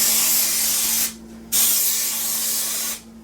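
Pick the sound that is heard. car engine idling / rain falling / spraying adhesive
spraying adhesive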